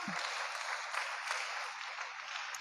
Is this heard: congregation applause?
yes